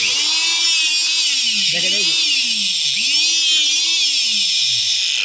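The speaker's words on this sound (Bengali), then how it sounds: "ভাই কেকের মতো করে লোহা কাটতেছে" A hydraulic steel rod cutter slices through iron rod, a loud, steady high-pitched mechanical whine running throughout, with low groaning tones that swell and dip twice.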